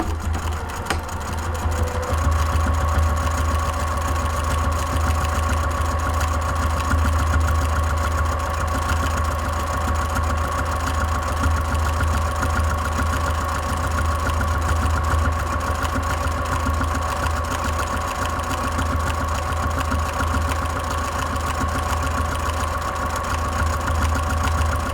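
A sewing machine stitches continuously down the center of a bag strap, a steady rapid mechanical whir with a fast needle rhythm, close and loud, running unbroken without talk.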